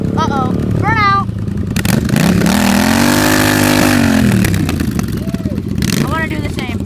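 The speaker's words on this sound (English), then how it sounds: "I put it in first gear and let out the clutch. What is he doing now? Uh-oh. Burnout." A dirt bike doing a burnout on a trail, its engine swelling into a loud sustained rev and then falling away, heard up close with people talking excitedly over and around it.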